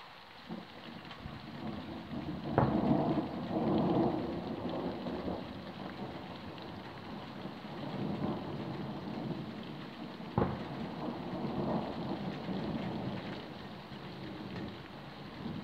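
Summer thunderstorm in the Drôme, France, with steady rain pattering throughout and several rumbles of thunder, including a sharper crack midway, all fairly faint and distant with no talk.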